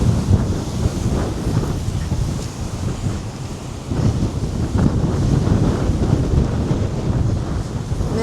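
Strong wind gusting on the coast at high tide, buffeting the microphone in a loud, rumbling roar with surges and brief lulls, and surf washing in underneath throughout.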